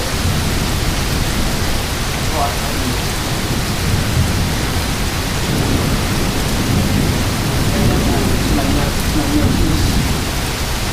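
An intense lightning storm over St. Louis brings a loud, unbroken roar of heavy rain, with deep thunder rumbling underneath throughout.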